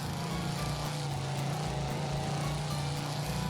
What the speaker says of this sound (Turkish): Ciddi söylüyorum bu arabanın sesi muhteşem.